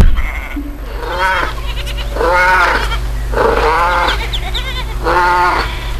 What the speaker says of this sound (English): It was too happy, playing, bleating, eating grass